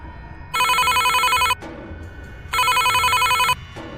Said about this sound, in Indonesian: Telepon itu kembali berdering.